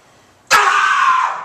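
A woman screams suddenly after half a second of quiet, a loud, sustained, piercing cry that holds and slowly fades slightly over the remaining second.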